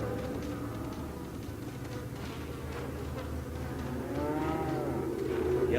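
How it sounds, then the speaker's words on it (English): A cow in the video game Resident Evil 4 lets out a drawn-out moo, with buzzing insects in the background. "Yep, that's a cow, right?"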